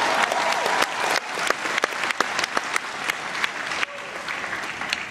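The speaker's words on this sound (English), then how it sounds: "he deserves a round of applause" Audience applause fills the room steadily, a dense patter of clapping hands with a few sharper claps standing out, loud and close throughout with no talk over it.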